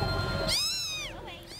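A kitten gives one clear, high, bending meow, close and brief, over a faint background hum.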